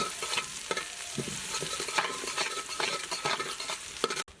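Onions frying in a pan for a lentil khichuri, a steady broadband sizzle with stirring scrapes and clinks running throughout, fairly close and with no talking.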